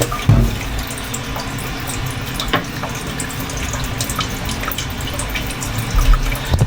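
Tap water runs and splashes into a container, a continuous close hissing gush with small drips and clinks of the vessel, no voices.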